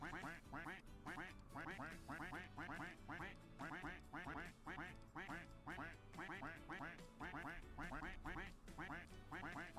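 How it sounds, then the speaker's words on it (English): Ducks in the Roblox game Duck Army quack continuously in a dense, rhythmic chorus, many loud overlapping quacks repeating throughout with no pauses. "I'm growing my duck army, either way."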